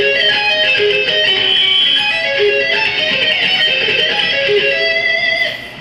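Electric guitar plays slow diminished seventh and minor arpeggios with a bright, sustained distorted tone, each note ringing into the next, steady and loud throughout and alone without voices.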